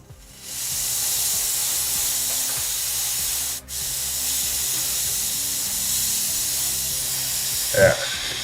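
A spray bottle with a gummed-up trigger gives a steady, loud hiss of spray running for about eight seconds, broken by one short gap midway, with a brief clunk near the end.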